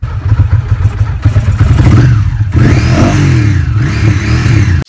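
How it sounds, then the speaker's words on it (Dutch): A motorcycle engine revs loud and close throughout, its throaty drone rising and falling with a couple of rev swells in the second half, alone without speech. "Eindelijk weer een keertje kan gaan rijden op mijn heerlijke motor."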